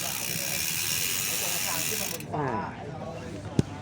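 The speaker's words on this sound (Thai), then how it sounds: "เนี่ยให้ฟังเสียงสเตอร์" A bicycle freewheel's rapid buzzing ratchet clicks steadily for two seconds, then stops abruptly, followed by quieter rustling and a sharp single knock.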